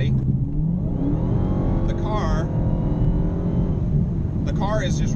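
A Dodge Hellcat's engine revs up hard as the car accelerates to pass on the highway, a loud rising roar with two quick gear-change surges, heard under someone talking over it.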